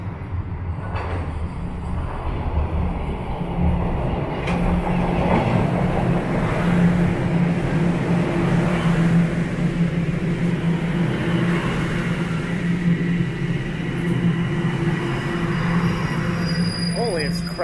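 A Toronto subway train rumbles into a station with a steady loud roar, rattling wheels and a rising squeal, braking toward the end.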